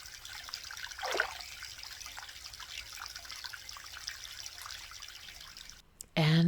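A small stream trickles steadily at a campsite, a soft continuous wash of running water with a brief louder splash early on, ending in a sudden loud handling noise.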